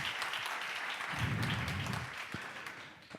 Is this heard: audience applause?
yes